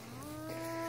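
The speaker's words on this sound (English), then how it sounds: "I think they're a group of good cows." Purebred Lowline cattle lowing outdoors on a farm, one sustained moo with a steady tonal drone that swells slightly louder toward the end, heard alone without talk.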